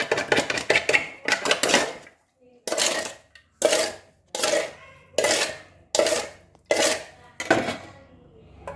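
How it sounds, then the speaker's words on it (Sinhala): A spoon clacks against a bowl in steady repeated strokes as grapes are stirred into a mixture, each scrape and knock sharp and close, about eight regular pulses after a quicker clatter. "අපි එහෙනම් මිදි දාලා කලවම් හොඳට කලවම් කරගමු"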